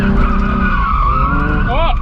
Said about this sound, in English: let's see if Chase can drift a stock car